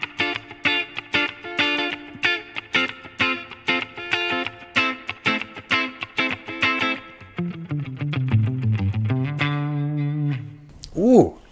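Electric guitar played through an amp modeler with a Dynacomp compressor, clean plucked notes and chords in a rhythmic phrase, then sustained bending notes ringing out, close and clear.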